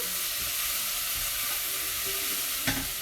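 Chopped ginger stirring and frying in a pan for an Indian dahl, a steady close sizzle with faint scraping and one brief sharp clink near the end.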